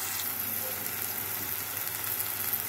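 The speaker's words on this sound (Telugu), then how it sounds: "ఈ పువ్వు కూడా వేగాలి కాబట్టి వేసేసుకున్నాం." Onion, green chili and cauliflower fry in a pan with a steady, even sizzle that holds without a break.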